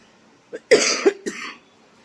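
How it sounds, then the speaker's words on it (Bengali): A woman coughs harshly two or three times in quick succession, close and fairly loud, in a quiet home. "এত বিচ্ছিরি কাশি হয়েছে"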